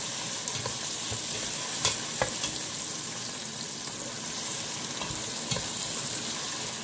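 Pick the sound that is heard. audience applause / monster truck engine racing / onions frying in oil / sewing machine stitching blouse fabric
onions frying in oil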